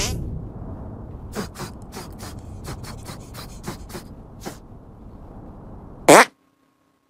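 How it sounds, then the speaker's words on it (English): In the South Park: The Stick of Truth video game, a string of short wet sputtering pops builds up, then a loud blasting fart bursts out and cuts to silence. "Make your fart detonate behind me."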